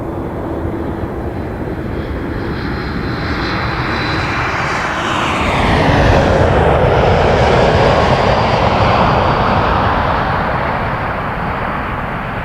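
An airplane roars past at Toronto Pearson Airport, a loud broadband engine rush that swells toward the middle with a falling whine as it passes, then eases slightly, with no voices.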